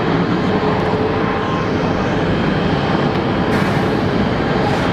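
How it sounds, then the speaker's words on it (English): An aircraft at Geneva Airport roars loudly and steadily as a broad, continuous engine rumble that fills the whole stretch without pause. "it's a good looking aircraft"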